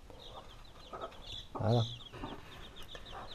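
Hen with young chicks being given fresh grass, soft clucks and chick peeps close by, one louder cluck in the middle, with a brief spoken word.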